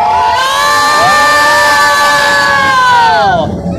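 Children on a flying carpet ride at Sozo Water Park in Lahore shout and scream together in a loud, sustained chorus of rising and falling cries, close and excited, with crowd noise beneath.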